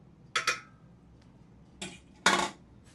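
A metal utensil stirring a feather dye bath in a pot: a few quiet, sharp clinks and scrapes against the pot, in separate bursts with brief silences between them.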